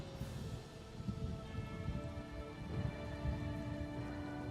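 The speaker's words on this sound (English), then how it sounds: "I've seen it rain once in Somerset, and even then it was kinda sort of sunny and the rain was a light drizzle" Steady rain in the Somerset Isles of Elder Scrolls Online, a dense continuous patter of drops with low rumbling beneath and faint tonal game ambience threaded through, holding even across the whole stretch with no voices.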